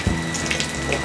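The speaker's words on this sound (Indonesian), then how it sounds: "Step pertama, siram dulu jeansnya." Water from a tap pours steadily over a pair of jeans being hand washed, giving a continuous close splashing rush with no voices.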